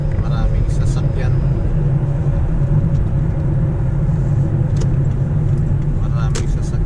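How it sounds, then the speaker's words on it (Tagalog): Steady, loud road rumble from inside a moving car on Dere Road near the Airport Road crossing, with heavy surrounding traffic droning continuously and faint higher tones above. "Maraming sasakyan."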